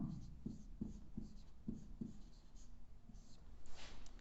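A definition is written by hand in Hindi grammar lessons: pen or chalk strokes tap out a regular series of short scratches, about six in a row, then trail off beneath a faint voice.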